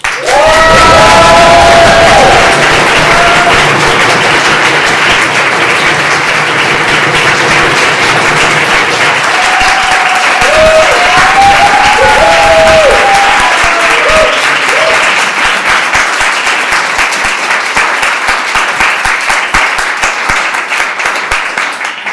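Loud, sustained applause and cheering from an audience after a PhD thesis public defense in life sciences at the University of Lausanne, with shouts and voices mixed into the long, dense clapping.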